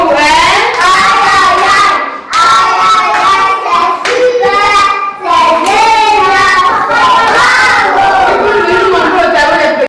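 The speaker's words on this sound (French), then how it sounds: "L'applaudissement" Children at a school celebration in Cameroon clap and chant together in loud, rhythmic unison, with young voices singing over the beat and a few brief pauses between phrases.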